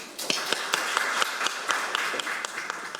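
Sparse, fairly close clapping from a small audience at a medical innovation forum, with distinct individual claps ringing out over a steady murmur for a few seconds.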